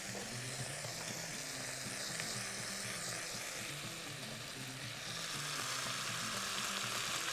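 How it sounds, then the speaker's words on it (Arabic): Garlic frying in a pan, a steady dense sizzle crackling continuously at close range and moderate loudness, with no voices over it. "عشان ما يتحرقش الثوم هحط حته ثومه كده لطيفه"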